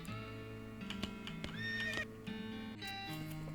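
A horse in West of Loathing gives a loud, wavering whinny over light game music, the neigh rising and trembling near the middle, with faint clicks and clip-clop touches around it.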